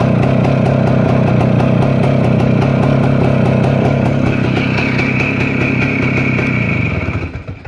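A Voskhod motorcycle engine idles close by, a loud steady two-stroke putter with a rapid even rhythm that holds for several seconds before fading out.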